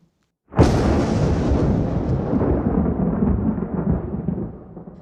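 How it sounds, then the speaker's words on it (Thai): Thunder from a nighttime city thunderstorm in an animated manga story: a sudden loud crack bursts out of silence and rolls into a long rumble that slowly fades. "เตือนภัยระดับสีส้ม สำหรับพายุฝนฟ้าขนองในเมืองของคืนนี้"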